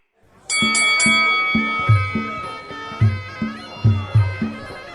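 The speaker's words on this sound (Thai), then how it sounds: "เสียงระฆังเริ่มยกสามก็ดังขึ้น" A boxing round bell strikes sharply and rings on with a bright, sustained metallic tone, while a series of dull low thuds repeats underneath.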